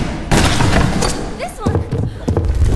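Gunshots in the video game Vampire Hunters 3, loud thumping booms in a quick burst near the start and more shots after, with a voice talking over them.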